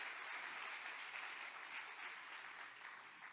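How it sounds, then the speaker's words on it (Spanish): Steady applause from a church congregation during a sermon, a continuous wash of clapping that fades slightly toward the end, heard at a distance and fairly quiet. "Dale fuerte ese aplauso a nuestro Señor Jesucristo, que vive y reina por todos los siglos."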